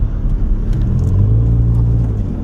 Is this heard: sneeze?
no